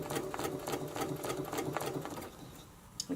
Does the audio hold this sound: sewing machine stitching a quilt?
yes